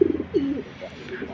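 Pigeons in a loft give a few low, soft coos close by, a brief throaty burble and a rising coo within about a second, alone with no talking.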